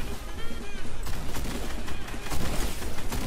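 Gunfire in the Fortnite battle game crackles in quick bursts over game background noise, with a voice speaking briefly.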